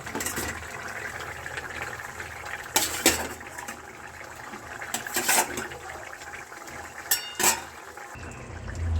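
Hot water poured into a pan of cauliflower and potato curry makes a soft liquid splash and gurgle, mixed with a few sharp clinks of metal cookware, close by in a home kitchen.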